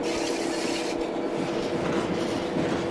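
A Class 66 locomotive hauling wagons at Hoo Junction in a train simulator on a foggy day: a steady, loud rolling rumble with a droning engine tone and occasional wheel clunks, no talking.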